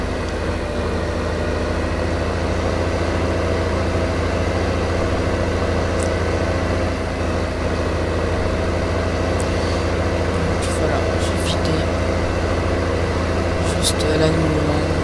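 A tractor engine runs steadily at idle throughout, a constant low rumble with an even drone and faint clicks and rattles near the end, heard close and continuous with no pauses.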